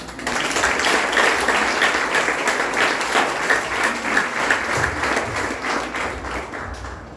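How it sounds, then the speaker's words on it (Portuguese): A church congregation applauds during a Holy Communion celebration service, a steady, dense wash of clapping from many hands that holds for several seconds before thinning out at the end. "Você pode aplaudir o Senhor?"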